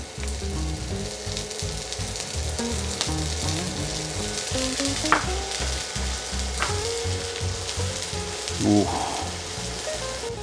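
Garlic sizzles loudly in hot oil, with cut red curly chilies stirred in, giving a steady crackling fry close up and a few brief clinks and scrapes from stirring.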